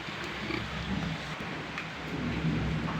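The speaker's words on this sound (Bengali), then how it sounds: "বাইরে বৃষ্টি হচ্ছে" Steady rain falls outside, a dense even hiss with a low rumbling undertone running through the whole stretch, moderately loud and with no voices.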